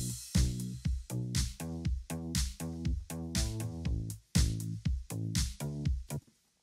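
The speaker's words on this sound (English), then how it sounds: "I started off with this bass called Dirty Planet." A Dirty Planet synth bass from Logic Pro plays a punchy, repeating bass line over a drum kit, with steady kick and snare hits driving a loud, continuous groove for several bars, no voices.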